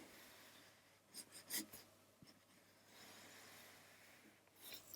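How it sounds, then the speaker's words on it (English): A pencil drawing of a cartoony character is erased in short bursts, quiet rubbing strokes, a few louder scrubs close by, with near silence between them. "I'm just going to kind of erase some of those lines"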